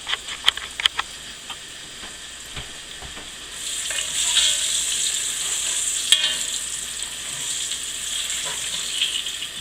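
Salt pork and sausage frying in a cast iron pan for chili, with a few clinks and taps at first, then a steady close sizzle that holds to the end.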